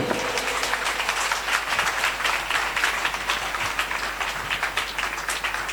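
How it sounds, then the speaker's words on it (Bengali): A church congregation claps together in a sustained burst of applause, a busy, fairly even patter of many hands heard at moderate distance rather than one single clap. "জোরদার একবার তালি দিয়ে"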